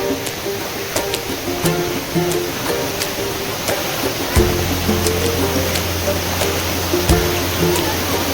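Flowing water rushes steadily near a waterfall in the Konkan monsoon, with periodic splashing steps wading through it, a low rumble joining partway through.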